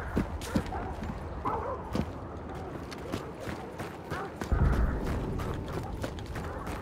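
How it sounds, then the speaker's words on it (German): Horse hooves clip-clop nearby amid busy game sounds in Hunt: Showdown, with scattered clicks and thumps and a muffled voice in the background. "Oh, Pferde in der Nähe."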